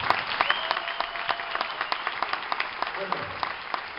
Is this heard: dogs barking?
no